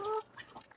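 A few soft, quick clucks from chickens, faint and close, with a short higher squawk at the start.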